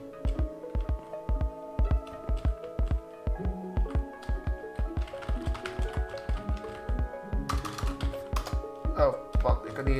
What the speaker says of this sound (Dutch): Eerst typen.